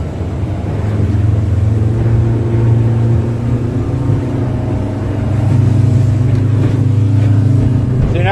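An Ocean Defiance 220 boat's engine runs steadily on the water with a droning hum, rising slightly as throttle is added partway through; no talking.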